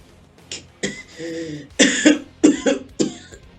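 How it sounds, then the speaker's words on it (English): Several short, rough coughs come in a broken sequence, close and fairly loud, with brief pauses between hacking bursts. "coughs while coughing up blood"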